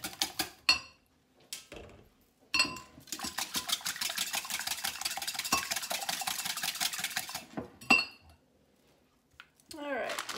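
Whisk beating eggs and milk together in a bowl for an omelet, a fast steady clatter of rapid rhythmic strokes, paused at times by a few separate clinks and knocks.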